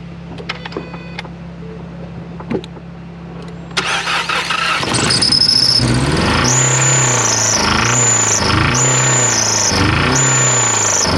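A 2016 Ford Focus 2.0L engine cranks and catches, then revs up in several strong, rising bursts with brief dips between, loud and close.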